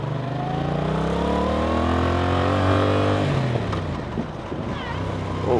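A Yamaha MT-07 motorcycle engine drones close by, its pitch climbing steadily as it revs, then dropping into a rougher, lower note as the ride continues.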